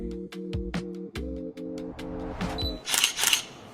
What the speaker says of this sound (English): Camera shutter.